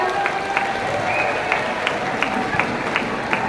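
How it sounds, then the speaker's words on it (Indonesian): New university students in a general lecture hall applaud together, a loud, even wash of clapping with a few sharper individual claps poking through. "tepuk tangan sekali lagi teman-teman semuanya"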